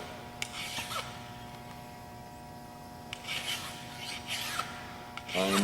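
A hand file chamfers the edges of a metal part. Close, gritty rasping strokes come in short bursts separated by quiet pauses, with a faint background hum.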